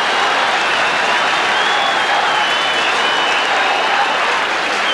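A football crowd roars and applauds a St Kilda goal against Melbourne in 1991, a loud, dense, continuous wall of cheering and clapping from a large stadium audience.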